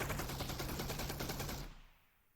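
Rapid automatic gunfire from a weapon in Half-Life: Alyx, a loud continuous burst of shots lasting about a second and a half before cutting off into a fading tail, with no talk.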